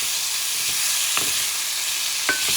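Peeled, seasoned shrimp sizzle steadily in a hot pan, a continuous close frying hiss with a few soft pops and bubbling spurts, no voices.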